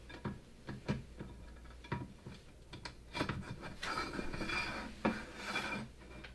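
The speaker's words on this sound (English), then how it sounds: "We're just going to slide the T-nuts into the slot and then tighten it." Metal T-nuts sliding into the slot of a sim racing cockpit seat slider, producing close, quiet scraping and rasping with scattered small clicks and taps, building into longer rubbing toward the end.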